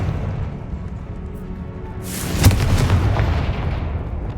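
Confringo blasting spell in Hogwarts Legacy, a single loud booming explosion that hits midway and then fades in a rumbling tail over low background noise.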